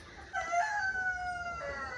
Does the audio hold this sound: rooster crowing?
yes